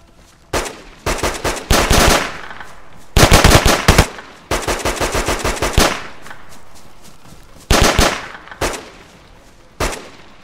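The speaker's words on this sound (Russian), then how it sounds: "вот по ним стреляют" Repeated bursts of automatic gunfire in the survival game DayZ, loud and close, several rapid volleys separated by short pauses and a few single shots.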